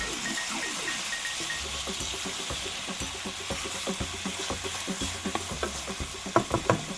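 Chicken browning in a pan, a steady sizzle with rapid rhythmic stirring and scraping strokes, close and moderately loud, growing a little busier with sharper clacks toward the end.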